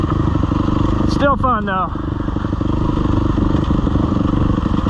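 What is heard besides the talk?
Husqvarna dirt bike riding over loose rocks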